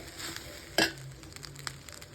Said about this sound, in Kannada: ಸೊ ಈ ಸೋಯಾ ಸಾಸ್ ಹಾಕ್ಬಿಟ್ಟು ಈಗ ಮಿಕ್ಸ್ ಮಾಡೋಣ